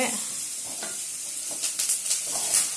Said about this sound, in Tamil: இந்த கடாயெல்லாம் மாங்குன்ட்டு இப்படி கிண்டிகிட்டே இருக்கணும்